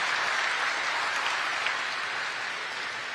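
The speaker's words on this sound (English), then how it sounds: "Let's give a round of applause to the people who are making the engine of America getting up and going." A crowd at the FALK Production manufacturing plant in Walker, Michigan applauds factory workers: dense, steady clapping that holds loud and even throughout, easing slightly toward the end.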